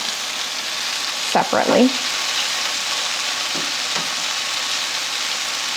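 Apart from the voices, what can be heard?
chicken pieces searing in a pan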